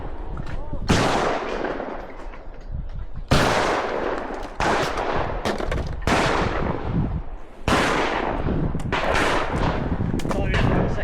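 Loud shotgun blasts at a clay shooting event, four sharp booming reports spaced a couple of seconds apart, each with a long decaying echo, close and outdoors.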